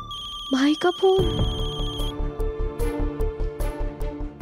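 A phone ringtone plays a short melodic tune, then a voice starts talking over a repeating ringtone pattern.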